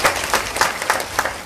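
Crowd clapping at a religious gathering during the seventh day of a Bhagwat Saptah in Noida, a short burst of loud, uneven applause with quick sharp claps.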